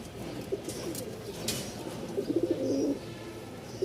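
Caged doves and pigeons give soft, repeated low coos with a few chirps nearby, while someone talks over them.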